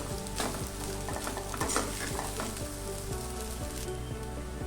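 Paneer fried rice is stirred with salt in a hot pan: a soft, continuous sizzle with repeated rhythmic scraping and tapping of the spoon against the pan, close and fairly quiet.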